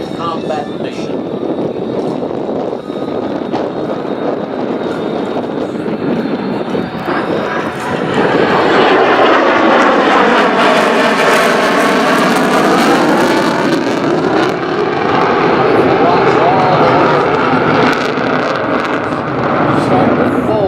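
A USAF B-1B bomber jet flies past at an airshow, a loud roaring rumble that swells and sweeps with a strong shifting tone as it passes close overhead, under an announcer's amplified voice.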